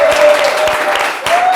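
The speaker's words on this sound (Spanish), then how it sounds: "Un fuerte aplauso" A studio audience on a television talk show applauds warmly for guest Margarita Ortega, a dense, steady clapping that holds at an even level for the whole stretch with a brief dip near the end.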